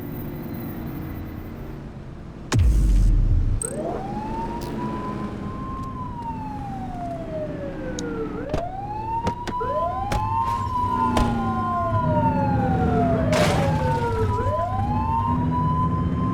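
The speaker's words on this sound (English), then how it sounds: "Turn that siren off." Police car siren in the video game Precinct, a wailing rise-and-fall cycle repeating several times after a sudden loud start, over engine hum and road noise.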